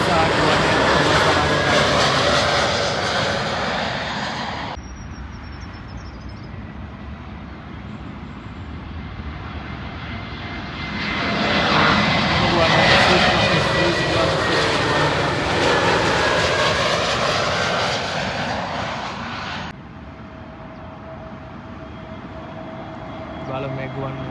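A Lufthansa airliner lands at London Heathrow Airport, its loud engine roar rising, fading, then swelling again as it passes close overhead, then dropping away to a quieter hum.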